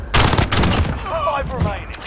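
Rapid bursts of gunfire in the video game Warzone, loud and close, dense shots in the first second before a voice speaks over fading fire.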